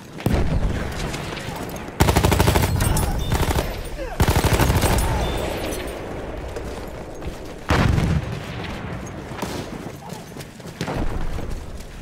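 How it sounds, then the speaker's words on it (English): Battlefield 1 battlefield combat with sustained machine-gun and rifle fire, a grenade thrown and bursting amid the shooting; loud, dense bursts with sharp onsets around two, four and eight seconds, and a voice speaking over the gunfire. "Je balance une grenade."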